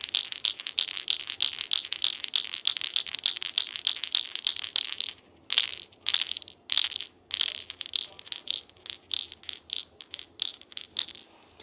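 A Revonik vibe fishing lure shaken to make its internal rattle, heard close up as a fast run of bright metallic clicking bursts, steady at first and then broken into separate shakes with short pauses.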